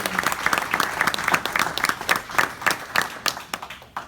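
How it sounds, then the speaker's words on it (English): An audience at a hunger-relief fundraising event applauds, with many distinct hand claps forming a steady ovation that gradually thins toward the end, moderately loud in a room. "I want to give you a round of applause, Tony"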